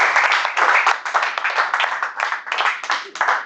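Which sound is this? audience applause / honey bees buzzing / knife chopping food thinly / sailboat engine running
audience applause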